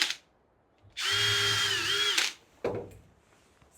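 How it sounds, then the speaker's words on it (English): A power drill pre-drills holes in wooden climbing-support pieces set in the front of a telehandler bucket, giving one steady, loud whine of about a second and a half that ends abruptly, with a short mechanical burst following. "Pre-drilling the holes."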